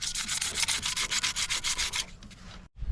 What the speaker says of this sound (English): Now that we have the PVC sanded,